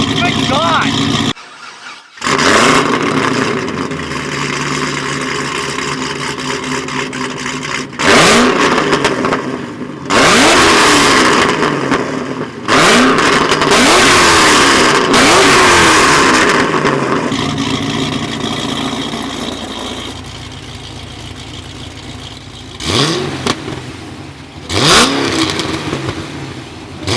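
A 600 wheel-horsepower Cadillac engine revs hard while driving, with repeated loud surging pulls and brief lifts between them, close and dominant throughout.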